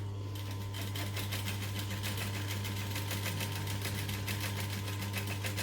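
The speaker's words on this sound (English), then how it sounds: "So I'm going to do a couple of stitches and then back stitch." A sewing machine runs steadily through fabric while a mini NCW is being sewn, laying a few stitches and then back stitching, with a continuous mechanical whir and a low hum throughout.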